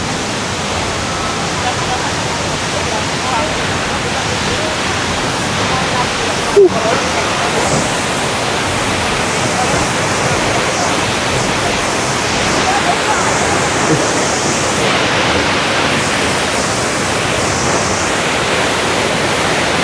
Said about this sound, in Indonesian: Jadi seperti inilah